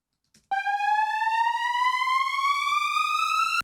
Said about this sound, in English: And then we have the saw riser right here.